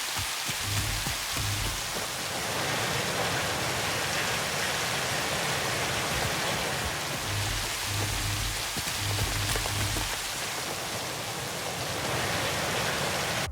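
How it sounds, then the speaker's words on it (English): Steady rain in the video game Satisfactory, a dense, even hiss of drops on surfaces that continues evenly throughout, with faint low thuds underneath. "The rain looks great and comes with a whole system that makes it look and sound good,"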